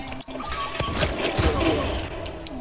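Rifle gunfire in an online match of Uncharted 4 cracks out in rapid bursts of overlapping shots that blur into a dense fusillade. It is loud and close, with a brief pause near the start.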